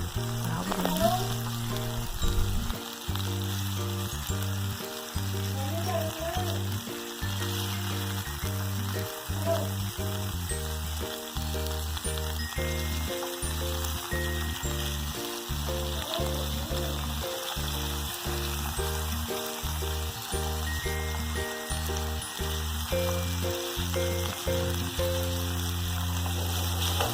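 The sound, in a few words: raw minced meat patties frying in a pan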